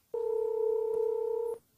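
On a 1994 hip-hop track, a telephone call is placed and a single steady ring tone sounds for about a second and a half, clean and alone, then cuts off.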